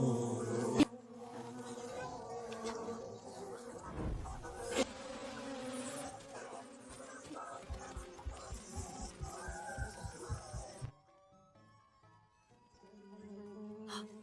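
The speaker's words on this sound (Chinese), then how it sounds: "小五，蜜蜂走了。" Bees around a large hive in a period drama scene produce a steady, dense buzzing that swells and flutters for about eleven seconds, then cuts out, leaving quiet background.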